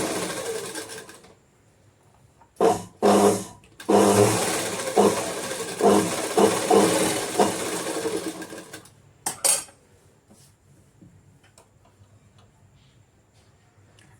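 A sewing machine stitches a katori blouse, pressing the tucks flat, with loud bursts of rapid mechanical ticking that run several seconds in the middle, broken by short pauses and then trailing off to a quiet hum.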